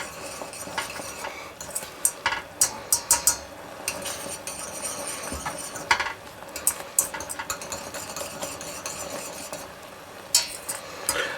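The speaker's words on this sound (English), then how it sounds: "Now that the sauce is starting to bubble and thicken up" Orange chicken sauce thickened with slurry bubbles in a pan at a boil, a steady bubbling sizzle with frequent clinks and scrapes of a utensil against the pan.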